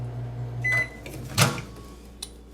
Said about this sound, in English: We're going to microwave that tortilla 10 seconds.